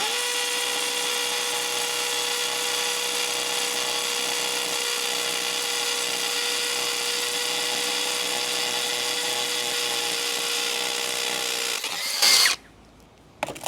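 A Metabo HPT DV36DC 36V hammer drill running in hammer mode at speed 2 on a partly charged battery, a loud, steady, high-pitched whine that continues for about twelve seconds before cutting off abruptly.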